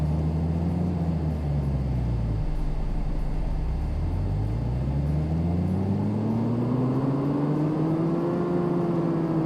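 A Ford Focus RS tuned to around 550 horsepower winds up on an all-wheel-drive dyno in Car Mechanic Simulator 2018, its engine drone dipping then climbing in a steady, loud rev sweep with a rising whine.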